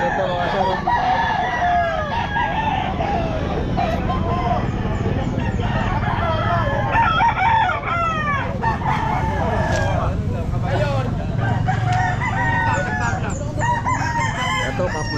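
Roosters crow repeatedly over a steady din of clucking chickens at a busy Sta. Maria pet market, with people talking nearby and constant crowd noise underneath.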